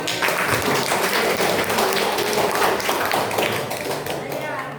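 A room full of people clapping in sustained, dense applause, steady and loud for several seconds, with a few voices mixed in.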